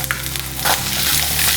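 Loud sizzling of chopped onions and garlic frying in hot oil with mustard seeds for cabbage kootu, with scraping stirs of a spoon against the pan, close and continuous.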